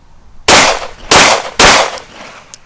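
Three loud, sharp pistol shots from a TARA Aerospace TM-9X at a shooting range, spaced about half a second apart, each with a short decaying tail, followed by a faint click.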